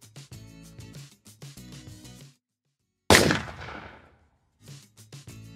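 Imaginext toy pirate launcher firing a projectile, a sharp plastic crack that rings and fades, with bursts of music before and after.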